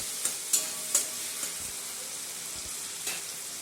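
Salt and ground spices stirred into a sizzling onion-tomato masala for a fish curry, a few sharp spoon clinks against the pan and soft scrapes over a steady low frying hiss, no talking.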